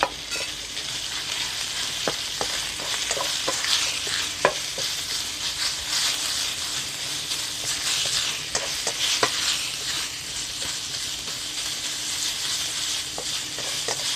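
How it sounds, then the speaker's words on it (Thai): Minced pork stir-fried with chili and garlic over medium heat for Thai basil pork sizzles loudly and continuously, with frequent scraping taps of a spatula against the pan as it is stirred. "ผัดหมูใส่ พริกกระเทียมให้สุกนะคะ"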